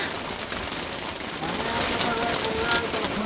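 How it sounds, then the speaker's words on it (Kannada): Heavy morning rain in Bengare falls as a steady, dense broadband hiss with a close patter on surfaces, continuous and slightly swelling toward the end, with no voices. "ಬೆಳಗ್ಗೆ ಬೆಳಗ್ಗೆ ರಂಪುದ ಮಳೆ"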